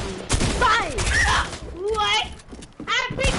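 Rapid video game gunfire bursts snap over excited talking, loud and close in short clusters.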